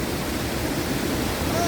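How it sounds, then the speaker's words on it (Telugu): Steady, loud rushing roar of a monsoon waterfall near Tamhini Ghat, continuous broadband noise of falling water with no breaks over a short stretch. "secret water fall"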